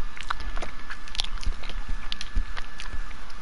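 Someone biting and chewing an ice cream cone, close crisp crunches and wet chewing in an uneven rhythm over a few seconds, no talk.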